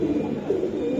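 A pigeon offered for sale coos close by in a short, soft, low throaty burble lasting about a second, with no talking over it.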